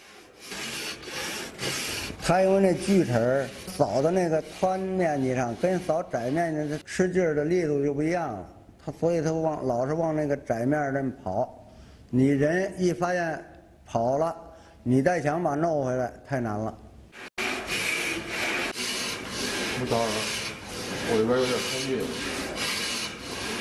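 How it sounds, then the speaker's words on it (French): A hand saw rasps back and forth through wood in steady repeated strokes, while a person talks over much of the sawing. "Il faut scier une longue ligne."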